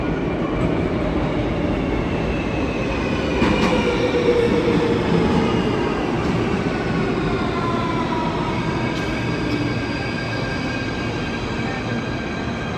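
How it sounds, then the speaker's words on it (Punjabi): A metro train in Athens rumbles in steadily, its wheels grinding and faintly squealing on the rails as it draws closer, loud and continuous. "ਮੈਟਰੋ ਆ ਗਈ, ਮੈਟਰੋ ਵਿਖਾਉਂਦੇ ਆ ਤੁਹਾਨੂੰ"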